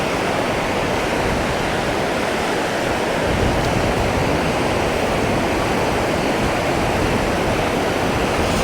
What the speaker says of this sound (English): Guys, do you enjoy the sound of the waves?